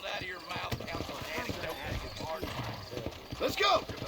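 Horses' hooves clip-clop at a walk in the Red Dead Redemption video game, with a whinny near the end. Game characters talk over the hoofbeats.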